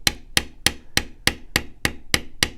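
A maul strikes a leather bevel tool nine times in a steady, even rhythm, each blow a sharp close wooden knock with no talk.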